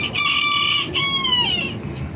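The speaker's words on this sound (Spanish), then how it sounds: "Vamos a presentar otro gallito nuevo" A young rooster at a poultry breeding farm crows once, close and loud, its drawn-out call rising and then falling over a couple of seconds.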